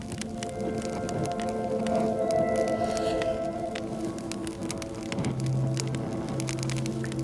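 A sustained ambient pad played on an SP404 sampler, a steady swelling drone with layered tones and crackly textures, holding at an even level throughout with a deeper tone entering near the end.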